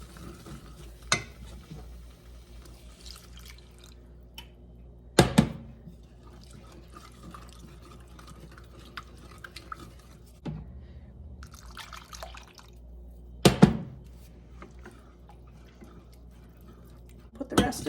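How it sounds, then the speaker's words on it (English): Skim milk poured slowly into a pan of sauce for a chicken cordon bleu casserole, a soft liquid trickle and light stirring broken by occasional sharp clinks of a utensil against the pan. "I'm going to slowly add that and let it thicken"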